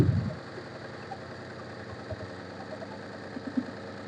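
A Maruti Omni engine with a pickup and low-mileage fault idles steadily while its spark plug leads are pulled one at a time to check each cylinder. It gives a low, even mechanical hum with a few soft knocks and no voices.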